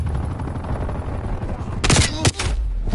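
A hostile sentry turret firing in a video game: a sharp, loud burst of rapid gunfire, then a second short burst, over steady game background noise.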